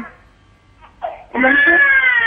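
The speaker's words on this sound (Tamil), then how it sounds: "குழந்தை வேற அழுதுட்டே இருக்கு" A baby cries and wails over a phone line, starting with small whimpers and breaking into a loud, sustained cry near the end, with faint voices in the background.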